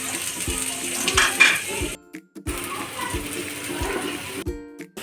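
Chopped onions hit a pan for ghee rice, with clattering utensil scrapes and clinks over a low sizzle, interrupted by two short silent gaps.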